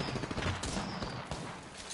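Sustained gunfire from a battle in the video game Apex Legends comes as a dense, rapid, crackling volley, loud and continuous throughout.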